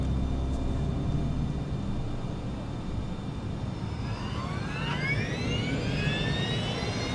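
Airliner engines spool up toward takeoff thrust, a loud broadband roar with rising whining tones that climb steadily in pitch during the second half.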